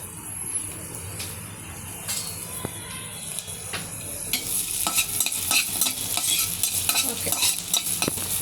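Garlic fries in hot oil, a growing crackling sizzle with sharp spatula clicks and stirring scrapes, close and intensifying toward the end.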